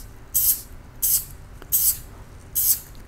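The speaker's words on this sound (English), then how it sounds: "I'm moving the can as I spray" Spray paint hisses from an aerosol can in four short even bursts, close and crisp, with quiet pauses between each pass while painting a cactus design at night.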